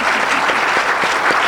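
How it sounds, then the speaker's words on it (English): Sustained applause from an audience at a panel event about polls and elections, a dense, steady wash of many hands clapping throughout, loud and close with no talk over it. "Can we please get a special round of applause for these three?"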